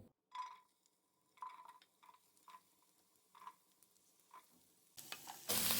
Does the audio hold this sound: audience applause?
no